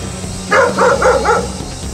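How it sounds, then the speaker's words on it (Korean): Two dogs bark excitedly indoors, set off by a neighborhood dog, with a quick cluster of four loud close barks in the middle against a faint background hum. "동네 개 짖는 소리에 덩달아 흥분한 마루와 도담이"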